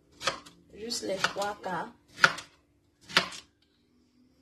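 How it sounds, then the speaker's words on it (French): A knife chops fruit on a board for making juice, with several sharp cuts between and after someone speaking. "je suis en train de découper"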